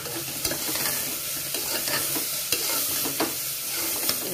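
Cabbage, carrot and beetroot are sautéed together in a pan with a steady, hissing sizzle, punctuated by frequent light scrapes and taps of the spatula as the vegetables are turned.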